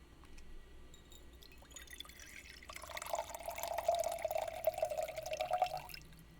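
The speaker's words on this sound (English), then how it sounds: "the peacock's careless hand pouring wine past the rim into a messy overflow" Wine pours past the rim of a glass into a messy overflow, a quiet trickling, splashing stream of liquid that starts faintly and grows steadier for a few seconds before stopping.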